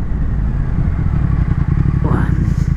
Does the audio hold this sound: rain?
no